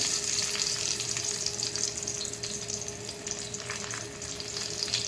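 Garlic fries in hot oil with a continuous close sizzle and fine crackle holding steady throughout, no voices over it.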